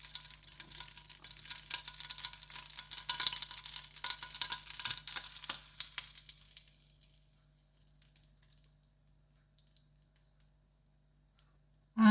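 Pancake batter cooking in an 8-inch pan, a soft close sizzle that fades to near silence after several seconds.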